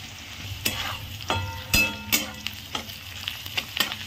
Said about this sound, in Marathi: कांदा नीट भाजून घ्यायचा.